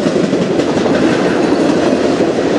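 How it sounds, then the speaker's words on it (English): A short CN freight train rolls past close by in Sarnia, Ontario, loud steady wheel rumble and clickety-clack of railcars filling the whole stretch. "Not a very long train on this one either."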